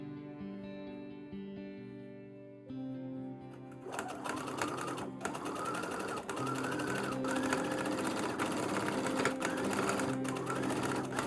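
A sewing machine stitches bias tape around a garment armhole, its steady mechanical hum running continuously over soft background music, close and moderately quiet.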